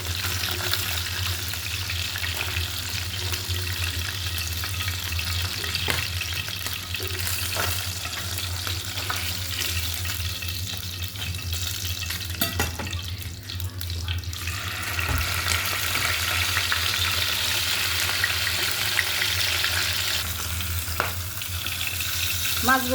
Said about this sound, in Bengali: মাছগুলো একটু ভাজা হয়ে গেছে আমার।